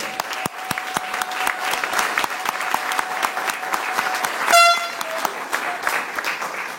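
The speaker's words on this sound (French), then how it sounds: "je voudrais qu'on l'acclame très fort" A crowd at a Paris solidarity rally for African peoples applauds hard, dense rhythmic clapping throughout with a brief horn blast partway through.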